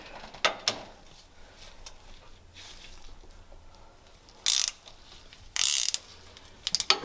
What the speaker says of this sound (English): With the ratchet.